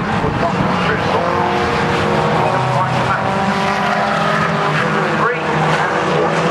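Race cars at Brands Hatch run side by side past the grandstand, engines howling loud and close with a sustained drone, while a commentator talks over the action.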